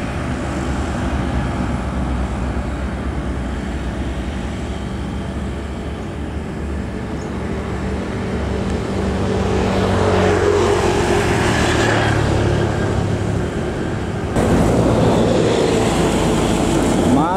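An ALS Executive Class intercity bus on the Medan–Jakarta trans-Sumatra route passes by a roadside, its engine rumble swelling as it draws near and staying loud, with a short horn-like burst near the end.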